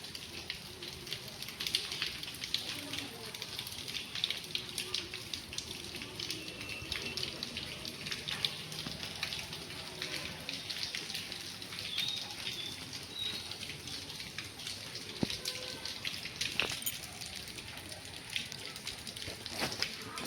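Heavy rain falls steadily on a town street in Dhenkanal, with roads flooded, a constant broadband hiss of downpour and splashing water continuing evenly throughout with no pauses.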